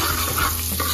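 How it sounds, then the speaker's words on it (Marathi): Bajra (pearl millet) flour roasting in about three spoons of oil over a low flame, a brief steady soft sizzle with light stirring, no talking. "बारीक गॅसवरती मी ते पीठ छान असं भाजून घेणार आहे"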